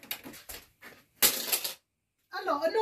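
Coat hangers clatter as they are thrown around, in bursts of rattling clicks and clacks with short pauses between them, fairly close by; a voice can be heard speaking at the end.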